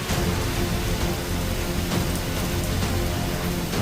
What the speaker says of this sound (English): The rain is out here bad and bossy and mean.